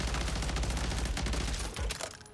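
Rapid sustained automatic fire from a BP50 assault rifle in Modern Warfare 3 Zombies, a dense continuous burst of loud gunshots that stops abruptly near the end.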